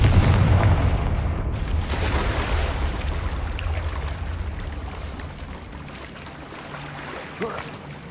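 A fiery Confringo explosion spell in the video game Hogwarts Legacy goes off with a loud blast at the start, followed by a rumbling decay that fades over several seconds.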